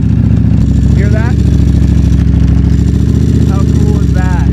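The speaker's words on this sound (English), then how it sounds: "pull in the clutch so they can hear the dry clutch" A motorcycle idles with a loose, rattling mechanical clatter from its dry clutch, steady and close, while voices talk over it now and then.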